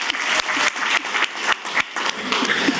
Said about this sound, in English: Give me an enthusiast applause.